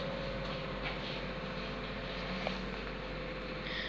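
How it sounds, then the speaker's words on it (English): A Tyne and Wear Metro train arrives at the airport station, its steady low rumble and rail hum continuous and fairly close throughout, with no talk. "There the train is. It's on our side of the rail."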